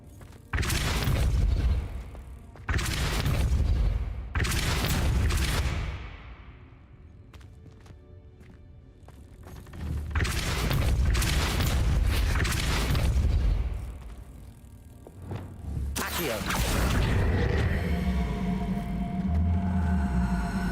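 A spell blast from the Hogwarts Legacy video game, a series of heavy booming impacts with rumbling low thuds and crashing debris, loud and repeated in bursts with quieter rumbling stretches between them, no voices.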